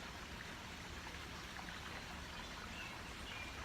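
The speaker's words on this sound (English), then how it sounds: "the sound of the bubbling brook" A bubbling brook at Montreat in the early morning, a faint, continuous rush and trickle of flowing water with no voices.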